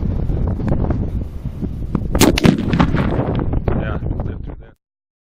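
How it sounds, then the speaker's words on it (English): Rimfire rounds strike Star Targets exploding targets outdoors, a few sharp cracks and bangs over steady wind rumble, fairly loud, before the sound cuts out abruptly. "Rimfire exploding targets from Star Targets"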